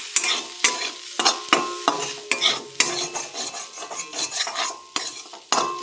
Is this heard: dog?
no